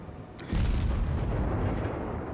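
Naval guns on the USS Omaha, an American Tier V cruiser in World of Warships, fire a single loud, deep boom that rolls on into a sustained rumble with no voices.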